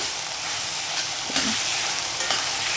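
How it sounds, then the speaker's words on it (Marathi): Onion and tomatoes sauté in a pan for a Malvani-style okra bhaji, giving a steady close sizzle and hiss with a few soft scrapes of stirring. "आपल्याला ह्यामध्ये टमाटर घालून घ्यायचे टमाटर पण थोडे नरम होईपर्यंत परतू द्यायचे"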